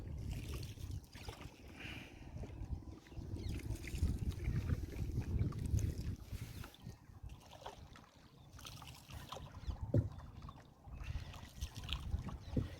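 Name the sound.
rowboat moving through floodwater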